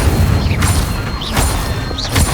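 Incendio fire spell cast in the video game Hogwarts Legacy: three loud whooshing, swooping bursts about every three-quarters of a second over a constant rumbling bed.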